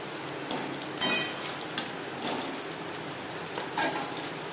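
Katla fish frying in a pan as pieces are flipped, with soft low-oil sizzling, a few metallic clinks of a utensil against the pan, and quiet scraping through the steady background.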